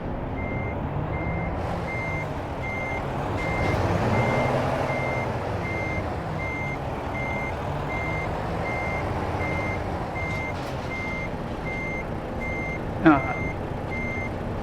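Repeated truck reversing beeps sound at an even pace over a semi-trailer backing into a parking spot in American Truck Simulator, heard under a steady engine rumble, with someone speaking briefly and a sharp hiss near the end.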